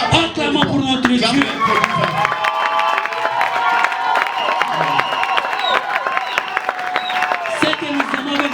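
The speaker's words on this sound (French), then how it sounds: "Acclamons pour notre Dieu." Church congregation applauding and cheering together, a steady dense wash of clapping with excited voices rising through it, loud and sustained throughout.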